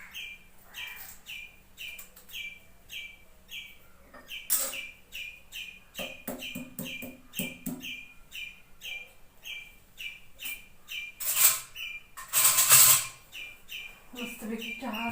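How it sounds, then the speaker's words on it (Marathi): Birds chirping outdoors: clear, repeated tweets come in a steady rhythm, broken by a few louder bursts of rustling noise. "पक्ष्यांचा आवाज किती यायला लागला."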